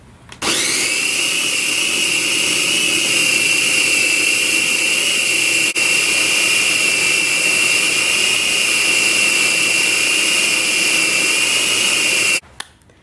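A food processor with its lid locked runs steadily for about twelve seconds, blending a dill dip mix of herbs and spinach. The motor whine is loud, high and even, starting and stopping abruptly.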